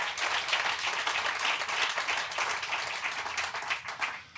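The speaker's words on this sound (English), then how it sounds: "Can we just have a cheer for that?" Crowd at a groundbreaking celebration breaking into steady clapping and cheering, a dense, continuous wash of hands and voices that holds fairly loud throughout without any speech over it.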